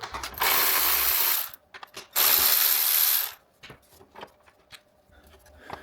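A ratchet spins out 10 mm bolts holding a plastic engine shield on a Nissan Altima 3.5, two loud bursts of rapid clicking, each a second or more, followed by softer scattered clicks and handling noises.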